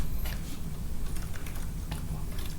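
Keys clatter in quick, uneven bursts on a computer keyboard, close by and fairly soft over a steady background hiss.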